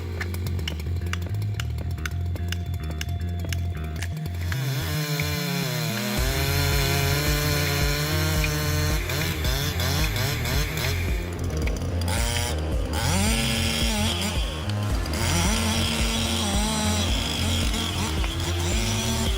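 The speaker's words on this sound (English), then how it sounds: "the Husky 372X P86cc chainsaw, a powerful and reliable tool" Husqvarna 372X 86cc chainsaw cutting through wood from a large tree near a house, engine revving loud and steady for the whole stretch, pitch swooping up and down as it bites into the wood.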